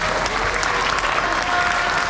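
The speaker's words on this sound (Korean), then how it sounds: "큰 박수로 받아주시기 바랍니다." Sustained applause from an audience at a farewell and graduation ceremony, a dense, steady wash of many hands clapping at once, loud and unbroken.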